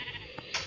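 A Minecraft sheep lets out one short, close bleat, clear and alone, with a brief rise in pitch near the end.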